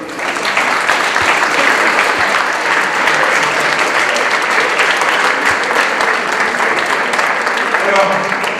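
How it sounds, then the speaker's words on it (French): Sustained audience applause at a European Elite roller sports cup award ceremony in Grenoble, a dense, steady wash of clapping filling the room from start to finish at even loudness. "Je crois qu'on peut déjà commencer à les applaudir."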